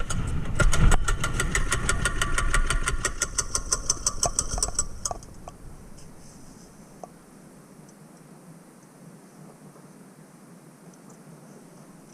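Custom chopper motorcycle engine, a budget build, running indoors with a loud, rapid, rhythmic pulsing beat that cuts off after about five seconds, leaving low background hum.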